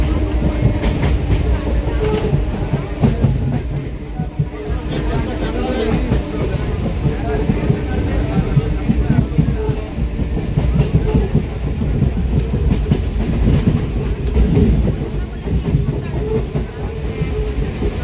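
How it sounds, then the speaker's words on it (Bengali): A passenger train leaving Howrah in Kolkata rolls along the tracks, heard from inside as a loud, continuous rumble with rhythmic clickety-clack and faint voices underneath. "লাইনটা ওইদিকে বেঁকছে, ট্রেনটা বেঁকে যাচ্ছে"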